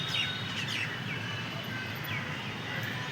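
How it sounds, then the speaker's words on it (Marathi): Crows in a garden in Magarpatta, with several short calls rising over a steady outdoor hum, fairly faint and spread across the moment. "4 आहेत कावळे, 4."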